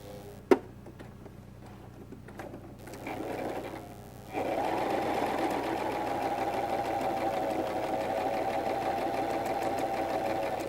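A sewing machine stitches a kameez sleeve seam, starting with a few clicks and short bursts, then settling into a steady, fast mechanical whir that runs continuously and close.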